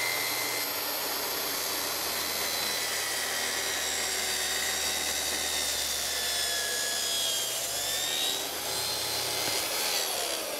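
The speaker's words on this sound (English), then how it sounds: "I have this set up for a plunge cut. Let's make a cut." A plunge-cut saw bites through wood in a workshop, a loud continuous whining cut that holds steady for about ten seconds with no talk over it.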